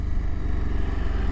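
KTM motorcycle engine running steadily while being ridden, a loud continuous close-up drone with a fast regular pulse and no speech.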